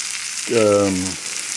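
Chicken fries in a stainless steel skillet with a continuous bright sizzle, close and steady, while a short voice cuts in briefly over it.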